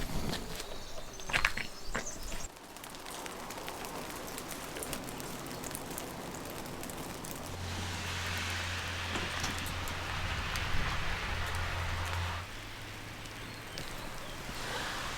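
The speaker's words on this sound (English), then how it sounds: "it has been raining on and off all day" Rain falling at an abandoned farm, a steady soft patter and hiss of drops on surfaces, faint and continuous, with a few nearer taps early on and a low hum joining midway.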